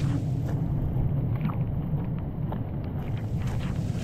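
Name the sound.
strong wind and rain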